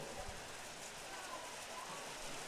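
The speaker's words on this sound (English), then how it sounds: "We have rain here at Hackman Field." Rain falling steadily across an outdoor baseball field, a soft, even broadband hiss that stays constant throughout, faint and distant with a few low rumbles underneath.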